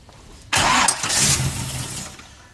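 A V8 Volvo engine cranks briefly and then catches, its loud, close starting burst settling into a rough idle that fades slightly over a couple of seconds.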